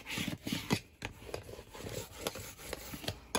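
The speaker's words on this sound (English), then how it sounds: "So I just put that down and I'm gonna burnish it." Paper being burnished flat for a junk journal folio, giving soft rubbing and scraping strokes in short repeated passes, close and quiet, with no talking.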